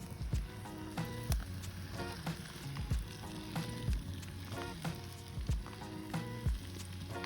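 Foil-wrapped food packs cook in a campfire with a steady close sizzle and crackle, broken by soft repeated pops and shifting noises.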